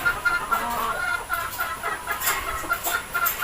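Fighting roosters cluck busily while being fed, with overlapping short clucks and calls, close by, continuous and without talk.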